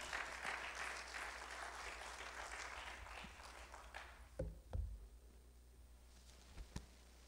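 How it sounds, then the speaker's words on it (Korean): A church congregation applauds to welcome the pastor at a New Year thanksgiving service, a broad wash of clapping that fades out, followed by a few louder thumps and knocks in a quieter room. "우리 목사님 나오실 때 환영의 박수로 환영하겠습니다"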